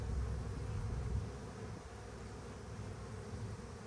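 Honeybees drone steadily over a brood frame of young bees during colony work, a dense continuous buzz that eases slightly partway through.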